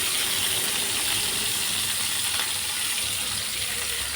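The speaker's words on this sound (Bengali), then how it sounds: "এবার আমি মাছটা ভেজে নেব।" Pakal fish fries in hot oil, a steady close hiss and crackle of sizzling that holds evenly throughout without pause.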